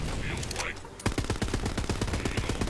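Gunfire in the Borderlands video game: a fast automatic burst of sharp, evenly spaced shots starts abruptly after a brief quiet lead-in and keeps firing loudly for nearly two seconds, with voices faintly under it.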